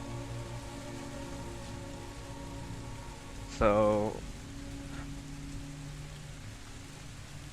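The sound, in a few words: rain in a tabletop role-playing game scene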